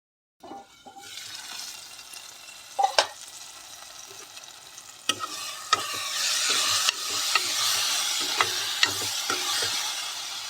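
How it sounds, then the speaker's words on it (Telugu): Onions and green chillies fry in a pan for a chicken curry, a hissing sizzle that builds over time, broken by sharp spatula scrapes and knocks against the pan, up close. "ఉల్లిపాయలు పచ్చిమిరకాయలు కొద్దిగా వేగిన తర్వాత టమాటాలు కూడా వేసి"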